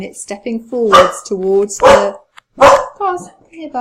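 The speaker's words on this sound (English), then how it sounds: "Excuse my dog." A pet dog barks several times in short sharp bursts close to the microphone, interleaved with a person talking nearby.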